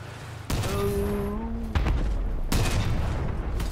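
Tank cannon shots in the vehicle combat game Crossout: three heavy booming blasts about a second apart, loud and close, with a voice and engine drone running underneath.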